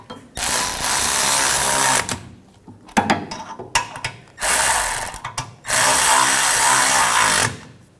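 Power tool driving in the new caliper bracket bolts on a 2011-2018 Volkswagen Jetta during rear wheel bearing and hub replacement, three loud sustained whirring bursts separated by short pauses with clanks and tool handling between.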